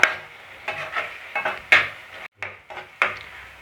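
Chopped tomatoes being sautéed in a pan for rava kichadi, marked by irregular scraping and clinking strokes of a spoon against the pan over a low background, with a few sharper knocks.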